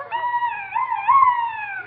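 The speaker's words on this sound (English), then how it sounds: "That noise was a duck call" Duck call carved from a turkey bone, blown in one continuous wavering, nasal honk that lasts nearly two seconds, fairly loud and close, with no talk over it.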